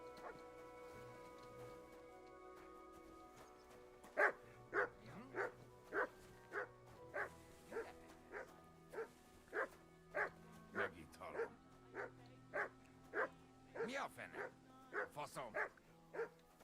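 A dog barks in Kingdom Come Deliverance 2: a long run of about twenty sharp, evenly spaced barks that starts a few seconds in and continues steadily over quiet in-game ambience.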